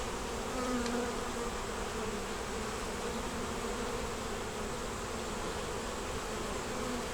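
Honey bees buzz steadily around an open hive frame holding nectar, brood, larvae and eggs, a dense continuous drone close by throughout with no talking.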